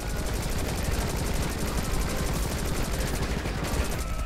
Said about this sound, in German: ich habe einfach weitergeschossen